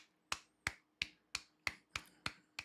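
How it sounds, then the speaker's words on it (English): A small group gives a soft, slow golf clap for a league player, eight crisp, evenly spaced claps close by with no talking. "Golf clap."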